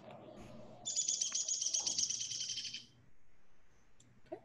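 A downy woodpecker calls at a backyard feeder: one high, rapid rattling whinny lasting about two seconds, close and clear over a quiet background.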